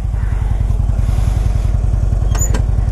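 A Harley-Davidson Road King motorcycle idles close by, its engine thumping in a steady loping rhythm throughout, loud and unbroken, with a brief faint high chirp near the end.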